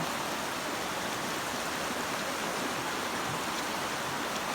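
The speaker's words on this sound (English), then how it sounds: "So now this is the creek behind my house." Floodwater in a swollen creek behind a house in eastern Kentucky after heavy rain, rushing in a steady, loud, broadband roar that fills the whole clip with no voices.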